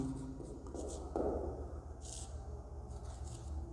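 Pen writing on paper for a maths exercise, giving close, quiet scratchy strokes in short bursts with brief pauses between them.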